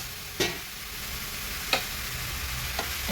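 Ladle stirring a pot of jackfruit dish and chicken curry, soft continuous scraping and sizzle with a few sharp clinks of the spoon against the pot, close by with no talk.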